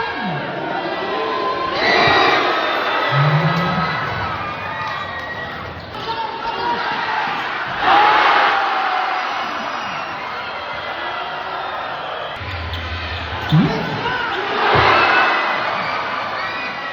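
Crowd at a local basketball game cheering and shouting in loud surges, children's voices and whoops rising over ball bounces, with a commentator talking throughout.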